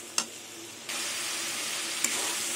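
Spice paste sizzling in a pan after water is added, soft steady frying hiss that swells louder partway through, with a couple of sharp utensil taps against the pan, close and without talk.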